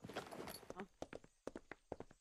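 Loud footsteps in the zombie survival video game DeadPoly, a run of sharp evenly spaced thuds following a stretch of busier game noise.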